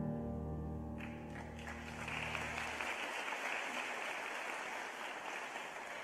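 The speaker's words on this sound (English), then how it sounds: "Let's give Laura Lamb one more big round of applause." An audience at a school district teacher of the year celebration breaks into steady applause as a musical chord fades, the clapping continuing evenly at moderate volume.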